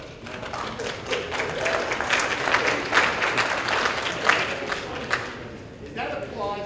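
Audience applause fills an auditorium at a town meeting, a steady wash of clapping with some crowd murmur and voices mixed in, tapering near the end.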